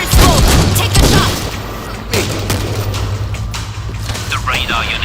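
A missile launcher firing in the World War Z video game: a loud burst of booming and rattling mechanical noise that hits at once, then a sustained rumbling din with clanks, under game voices.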